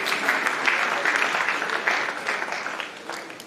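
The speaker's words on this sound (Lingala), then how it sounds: "Acclamons cette parole" Church congregation applauding after a scripture reading, steady broadband clapping at moderate volume, sustained throughout with slight swells and no clear speech over it.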